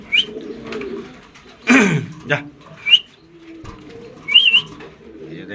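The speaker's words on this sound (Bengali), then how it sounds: "এখানে হচ্ছে একজোড়া মুন্ডিয়ান কবুতর, টপ কোয়ালিটি বললেই হয়" A floor-touch pair of Mundian pigeons, newly moved and nervous, coo low and intermittently amid a sudden burst of flapping, with brief high whistles and someone talking.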